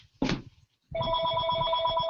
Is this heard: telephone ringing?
yes